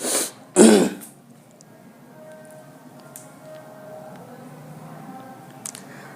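Two short, forceful coughs close by from an ill teacher during a physics class, followed by quiet room tone with faint background noise.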